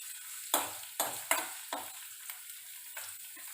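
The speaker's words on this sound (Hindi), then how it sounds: "आपने इसमें अपनी बारीक कटी अदरक और लहसुन डाल देना है और इसको पका लेना है" Finely chopped ginger and garlic sizzle in hot oil over a low-to-medium flame, with a series of sharp stirring scrapes spaced about half a second apart over a steady faint frying hiss.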